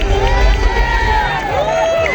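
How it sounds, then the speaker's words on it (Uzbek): A crowd at an athletics awards ceremony cheers and applauds the winning athletes, a loud continuous din of clapping and voices with some shouting. "Olqishlab qo'yamiz yana bir bor azizlar"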